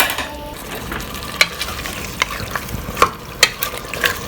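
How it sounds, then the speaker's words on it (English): Ghee heating in a pan for carrot halwa, a steady close sizzle with frequent clicks and scrapes as a spoon stirs against the metal, no talking. "Once the oil starts making noise, once it starts telling you, I'm hot, I'm cooking"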